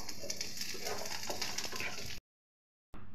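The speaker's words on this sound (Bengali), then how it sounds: "রসুনগুলা একটু ভেজে নেব।" Garlic fries in oil in a hot pan, a close, bright crackling sizzle that runs steadily for about two seconds, cuts to silence, then resumes briefly.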